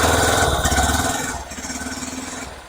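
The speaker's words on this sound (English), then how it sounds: "This is the new Hero Xpulse 200 4V Rally Edition, and let's listen to its exhaust note." A Hero Xpulse 200 4V Rally Edition motorcycle idles close by, its exhaust giving a steady pulsing thrum that eases slightly in loudness partway through.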